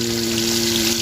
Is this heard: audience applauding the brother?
no